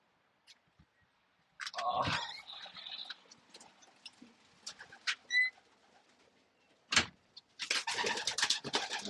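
Pigeons feeding on beet pieces, with soft coos, pecking and chewing sounds in bursts, plus a few sharp taps and rustles nearby; no talking.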